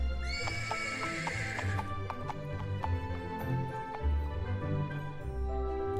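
A horse in the video game Save the Villainess lets out a loud, close whinny that rises and trails off, followed by a run of light, evenly spaced hoof clops with no talk over it.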